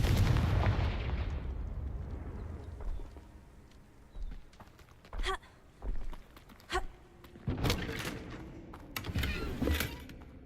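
Confringo blasting spells from Hogwarts Legacy gameplay go off as a series of sharp, booming explosive bursts, several separate blasts in quick succession after a rumbling opening, with no talk.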